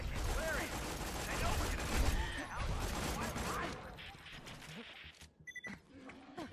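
Rapid automatic gunfire from the Lascaux rifle in Borderlands 2, a dense sustained burst with mechanical clatter that thins out near the end, mixed with other game noise.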